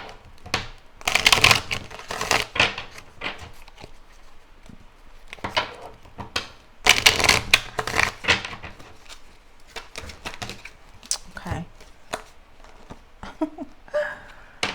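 A deck of tarot cards being shuffled, with repeated bursts of riffling and slapping that peak twice and then fade into lighter handling and occasional taps, heard up close with no talking.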